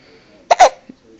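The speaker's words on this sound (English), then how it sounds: "You got the hiccups." A baby hiccups close by: two quick, sharp hiccup bursts followed by a softer third, with quiet pauses in between.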